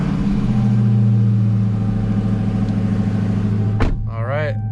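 A Dodge Hellcat Widebody idles with a deep, steady rumble, up close and loud. Near the end comes a sharp burst, and the engine note then wavers and revs.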